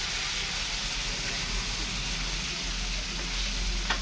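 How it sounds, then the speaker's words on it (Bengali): Spices sizzle and fry in a pan for a Bengali fish-roe fritter dish with potatoes, a steady close hiss and crackle running continuously without a break. "এই যে মশলা এর সাথে সাথে ভাজানো হবে, কষানো হবে"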